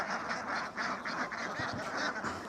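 A large flock of about 1500 farmed ducks at a haor wetland in Kishoreganj, quacking continuously in a dense, overlapping chorus at close to moderate range, with no talk over it.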